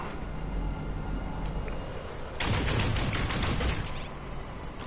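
Rapid-fire weapon shooting in No Man's Sky, a dense burst of quick repeated shots lasting about a second and a half mid-clip, loud over a steady background hum.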